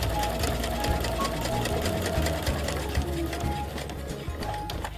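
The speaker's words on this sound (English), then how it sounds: "And I will start slowly sewing" A sewing machine runs steadily, slowly stitching along the edge of a piece of fabric, its close, even mechanical whirr and needle rattle continuing without a break.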